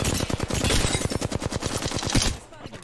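Enemy gunfire in a video game: a rapid automatic burst of close, sharp shots in a steady rhythm lasting over two seconds, then cutting off abruptly into quiet.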